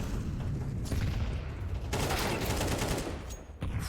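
Rapid AK rifle fire in a Counter-Strike 2 match, a dense run of crisp gunshots in bursts across a few seconds, loud and continuous with no talk over it.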